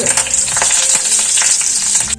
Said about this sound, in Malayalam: കടുക് പൊട്ടി വന്നു കറിവേപ്പില